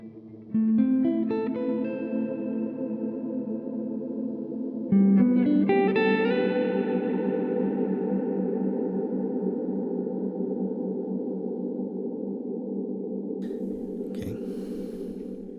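Guitar notes and chords pass through a Coffee Shop Pedals Cortado reverb with the decay turned up. Two plucked phrases each bloom into a long, washy modulated tail that fades slowly. A faint breath or rustle comes near the end.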